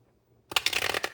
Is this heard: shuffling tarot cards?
yes